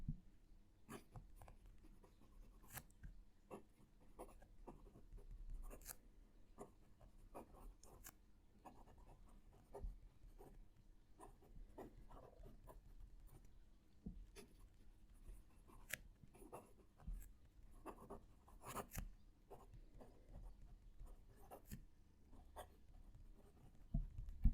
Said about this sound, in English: Let's move the mic and do some writing.